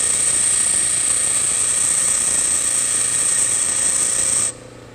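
A bench grinding wheel shapes a high-speed steel lathe tool bit, giving a steady, loud whining hiss with a bright high-pitched ring that holds unbroken before dropping off abruptly near the end.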